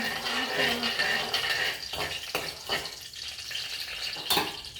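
Mustard seeds crackling and popping in hot oil in a pan for chicken curry, a steady frying sizzle scattered with sharp, irregular pops close up.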